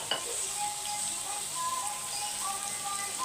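Tomatoes sautéing in a pan, a soft, even hiss of frying with faint bubbling and an occasional light clink, fairly quiet and steady without voices.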